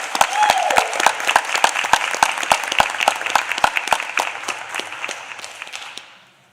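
An audience at a board of education meeting applauds a staff honoree, starting with a brief voice, then building into steady clapping with sharp individual claps standing out before it fades away at the end.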